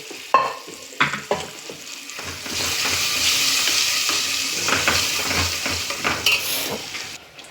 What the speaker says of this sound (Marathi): आणि आता हे शिजलेली डाळ याच्यामध्ये ओतून दिली